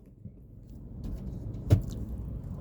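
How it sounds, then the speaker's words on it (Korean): Low rumble of a car cabin while driving, a steady engine and road drone that builds gently, with a brief louder knock partway through and no speech. "지금 운전 중이에요."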